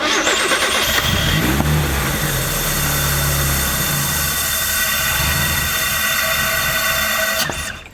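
A supercharged 1990–1993 Mazda Miata 1.6 rally car on a standalone ECU runs rough and struggles to idle, surging loudly early on, then droning unevenly before cutting out near the end.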